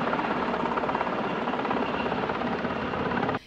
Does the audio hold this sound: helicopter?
yes